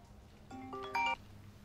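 A telephone rings in a staged fraud reenactment scene: a short electronic ring with clear tonal pitches, two rising bursts over quiet room background, heard alone without talk.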